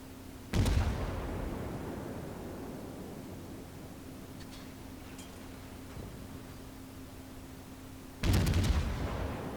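Two heavy booming salvos from the USS Pensacola's naval guns in World of Warships, one early and one near the end, each a loud blast with a long rumbling decay over a steady low hum.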